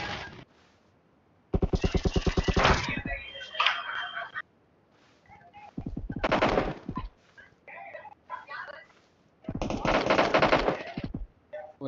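Machine gun fire in the mobile game PUBG Mobile: loud, rapid automatic bursts of a few seconds each, separated by quieter gaps with scattered game sounds.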